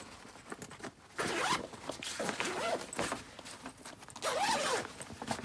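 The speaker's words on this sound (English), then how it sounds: "let go of the clips, unzip," A rooftop tent zipper is pulled open in several quick, rasping strokes close to the microphone, with short pauses between pulls.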